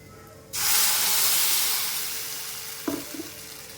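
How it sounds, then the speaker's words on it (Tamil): Onion tempering poured into coconut chutney sets off a sudden loud sizzle that hisses steadily, slowly fades, and ends with a couple of small clinks. "வெங்காயம் இப்போ தாளித்து ஊற்றிடுவோம்"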